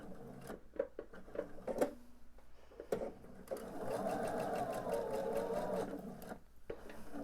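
A sewing machine stitches quilt background triangles, first a few short bursts and stops, then a steady sustained run of needle whirring, close and clear with no talk.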